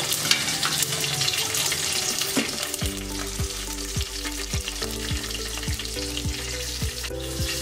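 Curry leaves and green chillies fry in hot oil in a pan, a loud continuous sizzle with spattering crackle throughout, and a steady rhythmic scraping of a spoon stirring in the second half; no one talks.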